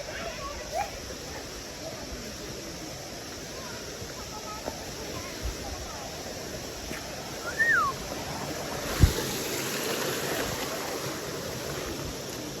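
A mountain stream in Nepal rushes steadily in the background, with broadband flowing-water noise, while occasional voices and a brief bird chirp come and go.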